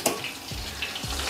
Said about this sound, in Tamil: வெங்காயம் இன்னும் கொஞ்சம் வதங்கட்டும்.